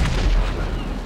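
A cannon shot fired in a GTA video game, a loud, heavy boom with a deep low rumble that decays over about a second, no voices over it.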